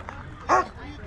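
A puppy gives a single short bark or yip, close and fairly loud, amid low background chatter at a flea market.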